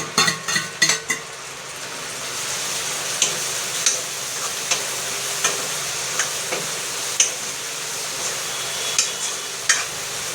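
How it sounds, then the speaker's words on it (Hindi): Tomatoes frying in a pan, a steady bright sizzle running throughout, with clinks and scrapes of a utensil stirring at irregular intervals, quicker at the start then spaced out. "अब मैं डाल दूँगी इसमें टमाटर"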